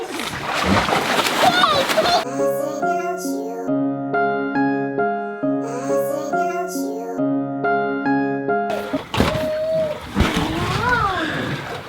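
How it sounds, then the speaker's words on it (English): Children splash water in a splash fight, with loud bursts of splashing at the start and end, a stretch of music in between, and voices talking throughout. "now splash fight."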